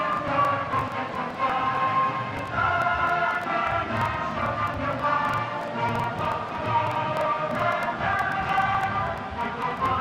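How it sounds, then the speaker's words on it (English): A home crowd at an American football game roars steadily for the whole stretch, a dense, loud, continuous wall of cheering with no break. "And the home crowd loves it."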